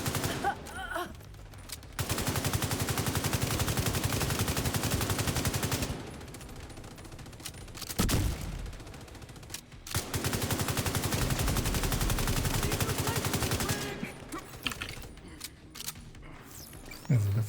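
AK rifle gunfire during a video game boss fight comes in long, dense automatic bursts broken by short pauses, loud and continuous, with scattered lighter clicks between volleys.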